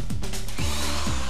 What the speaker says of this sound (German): Jetzt bohrt der doch schon wieder.